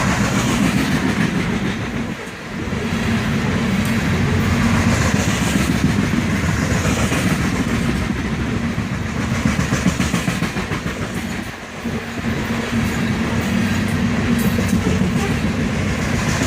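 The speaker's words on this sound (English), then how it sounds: "This fully loaded coal train is definitely booking it." A heavy, fully loaded coal freight train rumbles past close by at speed, loud and continuous, with rhythmic clickety-clack of wheels over rail joints throughout.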